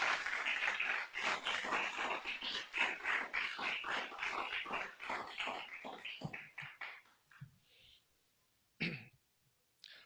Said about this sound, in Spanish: Démosle un aplauso fuerte a nuestro Dios.